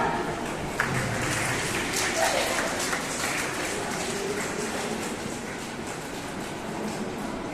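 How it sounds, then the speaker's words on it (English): An audience at a school's annual Founder's and Parents' Day celebration applauds, a sustained crackle of many hands clapping at moderate level for several seconds with little variation. "please everyone clap."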